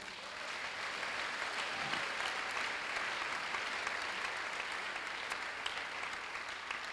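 A church congregation applauding the Lord during a sermon, a dense, steady wall of clapping from many hands that holds evenly throughout, loud and close, without voices.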